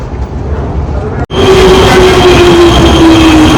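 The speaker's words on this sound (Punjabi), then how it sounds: "ਮੈਟਰੋ ਆ ਗਈ ਆ ਜੀ" A metro train rumbles loudly into a station in Prague, Czech Republic, a steady mechanical roar with a faint whine, after a brief dropout near the start.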